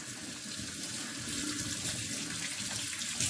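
Running tap water splashes steadily over hands being rinsed at a sink, a continuous close hiss and patter with no voices.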